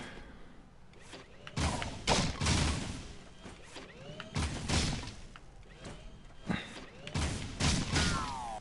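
Gunfire in Jak II: Renegade rings out as several separate bursts and sharp impacts spaced across the span, fairly close with quieter gaps between, with no speech.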